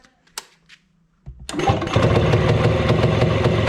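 A Muravey cargo scooter engine cranks and catches after a few faint knocks, then settles into a loud, steady buzzing run that continues to the end.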